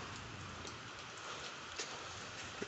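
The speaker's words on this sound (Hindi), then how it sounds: "वर्षा तो है प्रबल" Heavy rain falls in a steady, even hiss with scattered soft drop impacts, a constant wash of sound with no voices.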